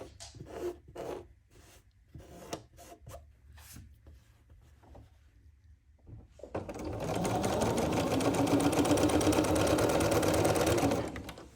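A sewing machine stitches through a quilt, its motor buzzing in a fast, even run for about five seconds. The stitching starts after some earlier scattered handling noises and short sounds, and it is close and clear.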